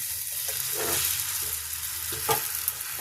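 Mustard and narasingha leaves fry in hot oil with a steady, close sizzle while a spatula stirs and scrapes the pan in occasional strokes.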